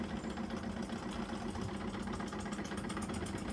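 Wilesco toy steam fire engine running, a small steam engine giving a steady, quiet chugging hum with fine rapid pulsing throughout, heard alone without talk.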